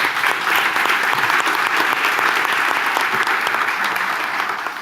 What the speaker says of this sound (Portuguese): Aplausos para a Joana.